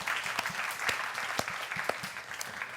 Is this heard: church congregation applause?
yes